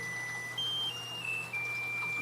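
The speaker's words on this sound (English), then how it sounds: "Turn off this alarm." An alarm in a home kitchen, going off during breakfast preparation, sounds a series of clear electronic beeps that step between pitches, fairly close and alone over a low background hum.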